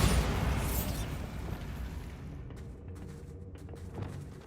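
Bombarda blasting spell in Hogwarts Legacy: a loud explosive burst opens at full strength, then decays into a fading rumble with a few faint thumps afterward.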